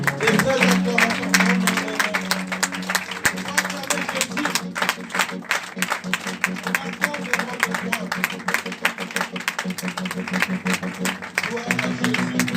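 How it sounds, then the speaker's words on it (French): A church congregation applauds and cheers in acclamation during a French-language service, a steady wash of clapping running throughout alongside voices and a sustained musical tone. "Est-ce qu'on peut acclamer Jésus-Christ? Et frères, acclamation."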